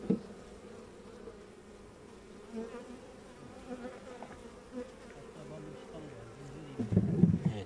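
Honeybees buzz softly and steadily around an open beehive during an inspection, with the hum swelling louder and closer toward the end.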